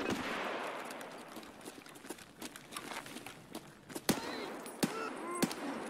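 Video game gunfire in a team shooter match, a few sharp distant-sounding shots and a couple of louder cracks near the end, over faint background game noise.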